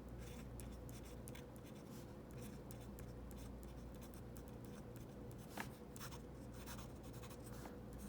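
A Zebra Zensations fountain pen with a 0.6 mm nib scratches softly across paper in short strokes, faint and close over a steady low background hum.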